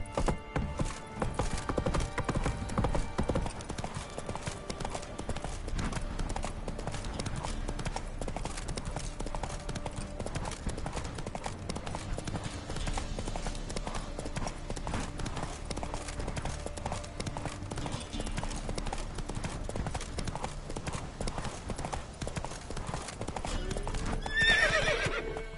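Roach the horse gallops in The Witcher 3 with rapid clip-clop hoofbeats in a steady rhythm and a whinny near the end, close and clear.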